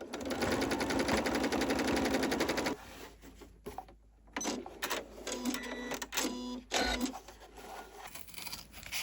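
Sewing machine stitching around the outline of a fabric Christmas robin made from scraps: a steady, close rapid whir for about three seconds, then shorter stop-start bursts of stitching with brief pauses.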